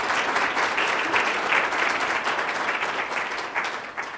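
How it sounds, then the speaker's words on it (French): An audience at a business event claps together in a steady wash of applause, fairly close and even, with no one speaking over it. "Je pense que ça mérite une bonne main d'applaudissements."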